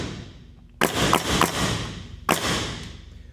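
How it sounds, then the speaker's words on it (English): A nail gun firing nails, with a few sharp, close thumping snaps, a quick cluster of shots followed by one more after a brief pause. "I'm gonna squeeze the trigger, and as soon as it touches, it'll fire"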